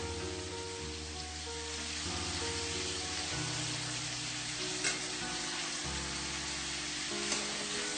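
Paneer cubes frying in a pan, a steady soft sizzle that holds throughout with no talking, under a louder tonal layer of background music.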